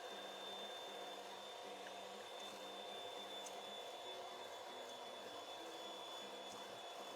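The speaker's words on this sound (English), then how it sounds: "You can hear the mixer's working a little harder." An electric hand mixer whips a tiramisu mixture as sugar is added, giving a steady, strained motor whine that holds at an even level throughout with no speech.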